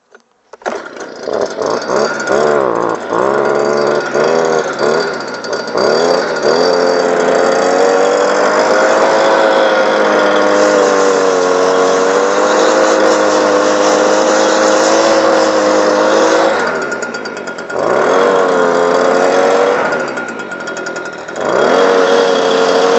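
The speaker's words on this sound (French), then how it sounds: "je vais mettre un petit coup de souffleur parce qu'il y a un petit peu d'abeilles." A loud, steady engine drone of a leaf blower running close by, clearing bees from beehive boxes, its pitch dipping and rising a few times.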